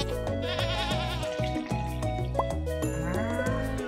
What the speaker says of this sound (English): The cow just baa?